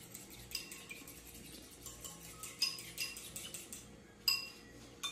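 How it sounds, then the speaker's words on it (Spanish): Light scraping and clinking of a bamboo spatula stirring warm milk in a pot, soft irregular strokes with a few sharper taps, quiet and close, no talking. "con una palita vamos a estar moviendo"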